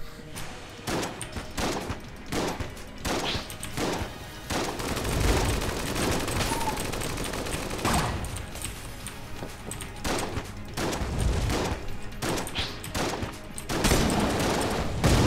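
Shotgun fire rings out in the video game Enter the Gungeon, with rapid loud blasts repeating in dense bursts over a constant background of game noise.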